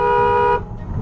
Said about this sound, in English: it's nothing a little FiberCon or horn honk can't fix to get things moving along.